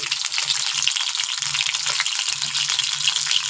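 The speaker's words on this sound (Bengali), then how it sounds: "এই কড়ার মধ্যে ডিম তিনটে দিয়ে দেবো" Three eggs sizzle loudly in a hot wok, a steady dense frying hiss with faint stirring and scraping underneath, close and continuous with no talking.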